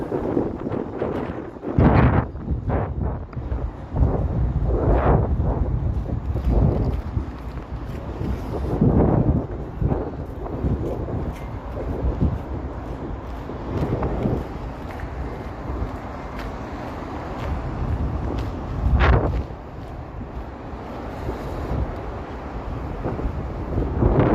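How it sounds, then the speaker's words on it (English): Strong wind buffets the microphone in downtown Toronto on a cold, slushy evening, a constant loud roar with heavy gusts and rumbling thumps, steady for the whole stretch. "I don't know if you can hear that wind, but holy moly"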